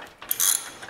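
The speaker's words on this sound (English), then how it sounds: "We're going to run them up snug with a ratchet and then torque them." A ratchet snugs bolts on a Ford Bronco winch bumper, a brief close burst of metallic clicking lasting under a second.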